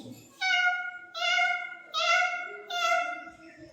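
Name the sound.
child imitating a kitten meowing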